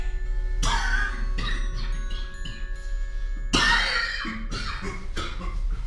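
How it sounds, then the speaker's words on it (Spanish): A harsh, repeated coughing fit close up, several bursts in quick succession with brief gasps between, over a low steady hum. "un ataque de tos le llegaba de nuevo"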